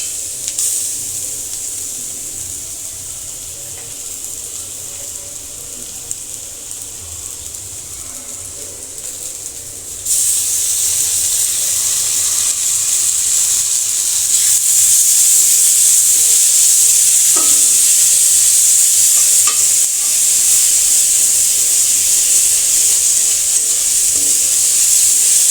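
Ginger-garlic paste hitting softened frying onions in a pan, a steady hissing sizzle that jumps louder about halfway through and stays strong, with no talking.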